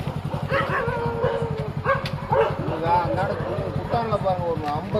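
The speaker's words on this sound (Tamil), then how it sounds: "எவ்வளோ நாய்ங்க பாரு." Street dogs bark and yip in repeated bursts, close and loud, mixed with whimpers, while people talk over the commotion.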